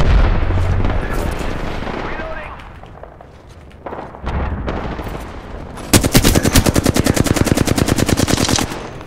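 Gunfire erupts in a shooter video game: early booms and scattered shots, then a loud, rapid, evenly spaced machine-gun burst near the end, with game voices faintly mixed in.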